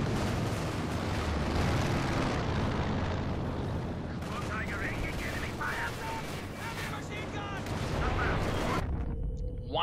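Airstrike in Company of Heroes 2, a dense roar of explosions and gunfire rumbling continuously under a commentator's voice, with battle noise swelling and fading.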